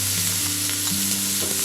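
Onion dropped into hot schmaltz in a pan, a close steady frying sizzle with a low humming tone underneath, short and continuous.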